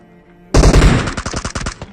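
M249 machine gun fire in the PUBG Mobile video game comes as a sudden, loud, close burst of rapid rounds in a steady rhythm, lasting over a second with no voices.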